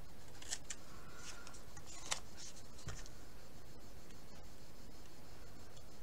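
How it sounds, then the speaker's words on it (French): Scissors snip at a transparent plastic sheet in a few sharp, quiet clicks and crisp cuts, close up, separated by pauses in an otherwise quiet room. "Je vais couper là. J'ai mon ciseau qui coupe pas."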